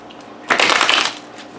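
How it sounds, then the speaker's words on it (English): A short, crisp riffle of tarot cards from the Golden Tarot deck being shuffled close up, lasting under a second with no talking. "We're going to use the Golden Tarot."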